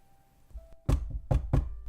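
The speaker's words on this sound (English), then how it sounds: "Finally, a knock at the door." A knock at a door, used as a sound effect in a creepypasta narration: a faint first tap, then three heavy, close knocks in a quick uneven rhythm over a quiet low hum.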